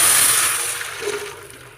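Water is poured into a bowl while making a tamarind curry with field beans, a short hissing splash that starts strong and quickly tapers off, with no voices.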